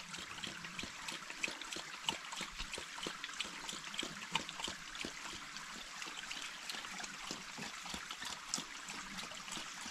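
Dog Riley lapping water from a trailside stream on the Appalachian Trail, a soft, steady trickle and splash of flowing water with faint irregular licking, close and quiet with no talk.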